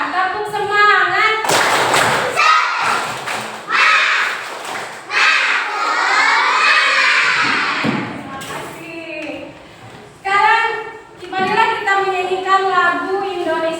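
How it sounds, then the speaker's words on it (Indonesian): A classroom of children doing a rhythmic spirit clap: bursts of group clapping mixed with loud chanted children's voices in a steady pattern, close and energetic, with some talk between rounds. "Oke, sekarang tepuk semangat."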